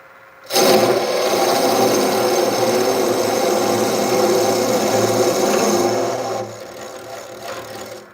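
A Forstner bit drilling into spalted river birch gives a steady, loud power-tool whir with a grinding edge that runs for about six seconds before easing off into a quieter hum.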